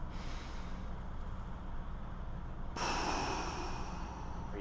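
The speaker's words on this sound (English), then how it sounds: "take a deep breath, breathing into the full abdomen" A person draws a long, deep breath into the abdomen, a steady close airy inhale that shifts into a brighter, stronger rush partway through.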